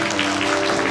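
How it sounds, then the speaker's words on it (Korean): A church congregation at a Wednesday worship service gives a short burst of dense welcoming applause, a steady clatter of many hands over a faint sustained tone. "다 같이 환영의 박수 한번 보내드릴게요."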